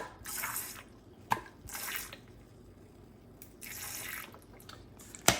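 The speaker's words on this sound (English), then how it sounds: "I myself give this about 4 good squeezes" A squeeze bottle of liquid drink flavoring is pressed several times into a glass of water, giving short hissing squirts and splashy trickles separated by quiet pauses, close and fairly soft.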